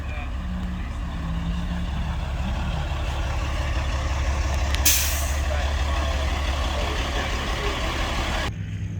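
A big rig truck towing a large trailer, engine rumbling steadily nearby with a sharp hiss of air brakes releasing midway.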